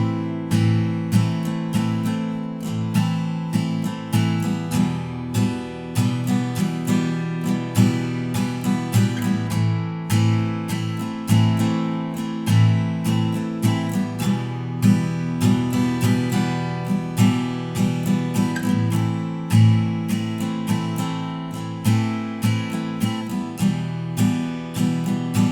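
A strummed acoustic guitar plays verse chords in a steady down-up pattern, close and full, unbroken for about twenty-five seconds.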